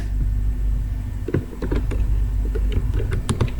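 Key clicks of typing on a computer keyboard while entering stock purchase data into an Excel spreadsheet, a quick uneven run of close taps starting after a quiet moment, over a low steady hum.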